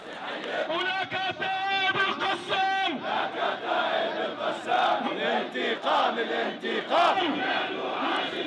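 A large crowd chants slogans in praise of the Al-Qassam brigades at a Friday demonstration in Jordan, loud rhythmic massed voices rising and falling in repeated phrases.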